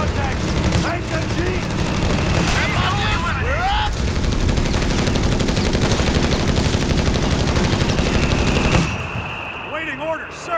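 Sustained machine gun fire in Company of Heroes 3, the Salerno battle of Operation Avalanche, loud and continuous bursts for most of the clip over battlefield noise, with soldiers shouting, before dropping off near the end.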